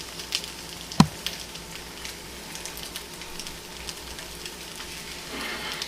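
French toast stuffed with strawberries and cream cheese fries in butter in a pan, a soft steady sizzle with one sharp clack of a utensil early on and the hiss swelling slightly at the end.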